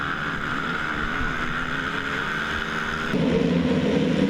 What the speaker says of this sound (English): We got the onboard with Josh Upperman. Let's go racing.